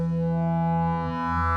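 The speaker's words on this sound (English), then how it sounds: "now we can have the next 2 sine waves" Steady electronic tones from a fixed sine-wave oscillator bank synthesizer hum together in a sustained drone, with a slight dip and wobble midway; no voices.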